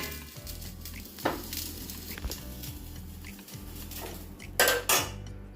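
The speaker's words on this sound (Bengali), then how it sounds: "গ্যাসটা অফ করে একটু ঢাকা দিয়ে" A metal lid goes onto a pan of egg curry on a kitchen stove, giving sharp clanks and scrapes of cookware with faint sizzling in between, fairly close and with no voices.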